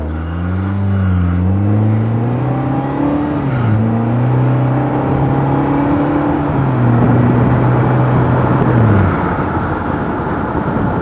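A small car, a Citroën Ami or Vanderhall Venice, accelerates on a departmental road, its motor whine climbing in pitch in steady steps through about nine seconds, loud and close with no talking over it.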